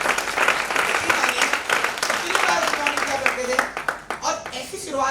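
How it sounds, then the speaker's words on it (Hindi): An audience at a personality development talk applauds with dense, steady clapping that fades toward the end, while a voice speaks over it. "ये सबके लिए ताली होनी चाहिए जो 100-200 बार गुड मॉर्निंग करते हैं"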